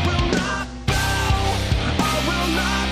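Another loud butt rock excerpt: thick distorted guitars, pounding drums and sustained chords, with a brief dip before the band crashes back in at full volume.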